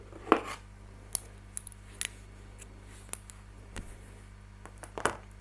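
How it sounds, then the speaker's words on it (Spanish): Scissors snip through crochet yarn several times, giving sharp, close, isolated clicks spread over a few seconds above a quiet steady hum. "cortamos el hilo"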